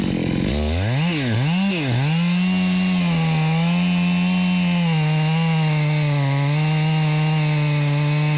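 A chainsaw bores into a large ash tree, its engine loud and close, revving up and down at first, then settling into a steady high whine as the bar cuts.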